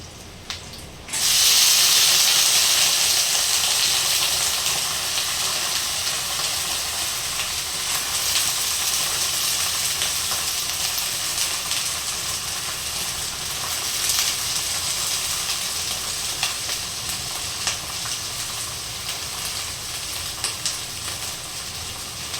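Cluster beans land in hot oil with fried chillies and garlic, setting off a sudden loud, steady sizzle that holds close and continuous for the rest of the clip, with no talk.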